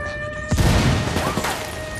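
A frag grenade explodes in Ghost Recon Wildlands, one sharp booming blast with a rumbling tail over ongoing gunfire and game noise.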